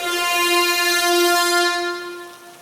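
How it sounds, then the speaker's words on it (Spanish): A long, deep truck horn blares as one loud sustained blast lasting about two seconds before fading out, heard alone with no talk. "Entonces escuché el primer claxon."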